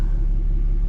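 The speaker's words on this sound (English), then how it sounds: "Rush hour traffic, and here we are sitting." Cars sit idling in a line of rush hour traffic, a steady low engine rumble close by with no break or rise in pitch.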